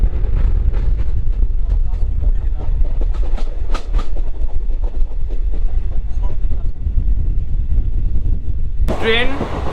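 Festooned passenger train pulling away from the platform at Azimganj station, a steady loud rumble of wheels and rail noise throughout, with a sharp high squeal or horn-like tone rising near the end.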